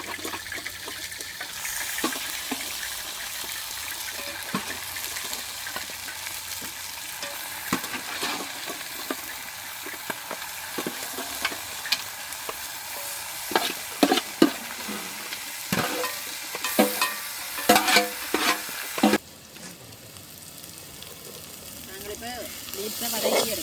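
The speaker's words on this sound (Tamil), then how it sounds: "நான் இப்போ இறைச்சியை சேர்த்துக்கொள்கிறேன்." Meat, likely chicken, frying in oil in a pan and stirred steadily, a continuous close sizzle broken by scraping and clattering of the utensil against the pan, louder toward the end.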